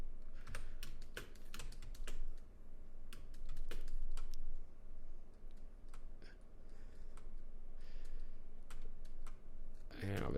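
Computer keyboard keys and spacebar clatter in scattered bursts and single presses while cleaning up frames of a hand-drawn flame animation, close and crisp, with speech heard faintly at times.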